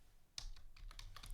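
Keystrokes on a computer keyboard while entering notes into an Epic medical records system: a quiet burst of several clicks, then a steady run of taps, close and alone.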